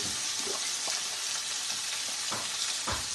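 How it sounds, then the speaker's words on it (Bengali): Pumpkin pieces fry in hot oil with a dense, close sizzle. Several brief stirring scrapes are heard over the hiss. "তেলটা গরম হয়ে গেছে এখন আমি কুমড়োগুলো দিয়ে দিব"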